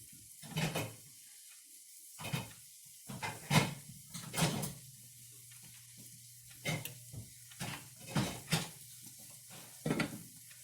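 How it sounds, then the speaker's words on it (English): Faint clattering and knocking of cookware as a pot lid is pulled from a cupboard, several separate clunks and scrapes spread out, over a quiet background hum. "So let me get a lid out."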